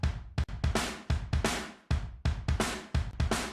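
Drum shells only, recorded on room mics, hit in a quick pattern for an emo/hard rock mix, kick and toms ringing with roomy ambience, loud and punchy with short decays between hits.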